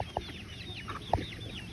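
Chickens and ducks being fed papaya on a small farm give a few short clucks, two louder ones standing out against a steady background of distant bird chatter.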